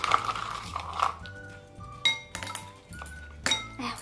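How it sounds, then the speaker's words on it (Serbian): Ice cubes clatter into a bowl alongside cold water in a toy-unboxing setup, giving a few bright, sharp glassy clinks and knocks spaced over several seconds, close and fairly quiet. "I sada ćemo staviti kockice leda u ovu činiju"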